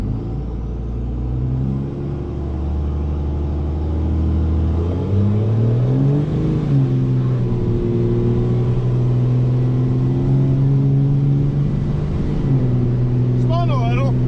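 A second-generation 24-valve Cummins diesel truck revs loudly, building boost with a steady deep drone, then launches as the engine note rises and holds strong throughout.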